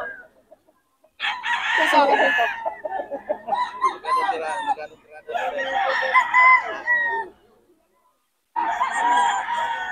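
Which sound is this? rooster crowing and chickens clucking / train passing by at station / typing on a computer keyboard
rooster crowing and chickens clucking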